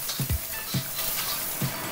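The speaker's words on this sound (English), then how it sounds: "Then we heat up our oil and add the aromatics," Onion and garlic frying in hot oil in a Lodge cast iron wok, a close, quiet, continuous sizzle broken by a few soft stirring knocks and scrapes, with no voices.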